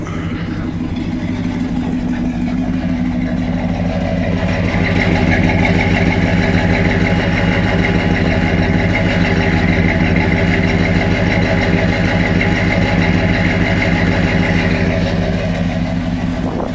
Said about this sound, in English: Let you have a feel for that exhaust. It's got 429 big block.